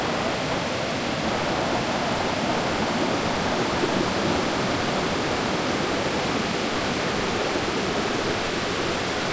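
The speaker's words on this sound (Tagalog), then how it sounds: "Ito yung cold spring." Cold spring water at Bolao Cold Spring in Cagayan de Oro flows in a steady, dense rush like a small stream or cascade, loud and continuous throughout with no voices.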